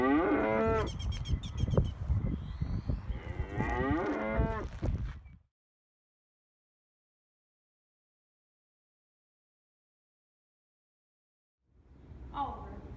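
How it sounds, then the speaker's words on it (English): Cattle moo loudly and repeatedly for several seconds, followed by a long silence and then another low moo near the end. "With all these cattle, I need to find a way to make profit around here."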